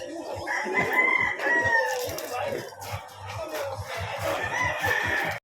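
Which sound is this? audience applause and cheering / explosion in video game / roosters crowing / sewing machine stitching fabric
roosters crowing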